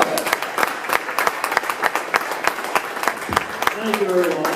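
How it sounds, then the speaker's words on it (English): Audience applause for a comedian at a comedy show, a crowd clapping in a dense, steady patter that holds for several seconds, with a voice starting to speak at the end. "Guys, please clap it up for Greg Kobylt"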